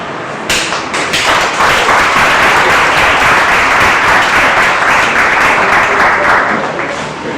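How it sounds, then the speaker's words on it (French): Loud, sustained applause from an audience in a hall honoring new actors in Togo, dense clapping that swells quickly and holds steady for several seconds. "je veux que vous les applaudiez encore pour moi"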